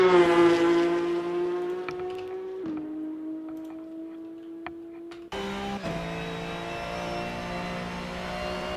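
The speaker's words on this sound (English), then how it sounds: "Porsche Cups are insanely loud." Porsche Cup race cars on a circuit during an endurance race, a loud, sustained engine note with steady harmonic whine shifting pitch as cars pass and change gear, no talking.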